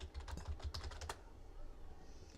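Quick, steady keystrokes on a computer keyboard as a search term goes into a word-processor find box, a close run of clicks lasting about a second and then falling quiet.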